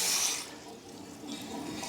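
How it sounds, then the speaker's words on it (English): Water running from a bathroom sink faucet fitted with an LED light, a soft steady hiss and splash heard from close by, fairly quiet. "if you were to come in at the evening time and turn on your water"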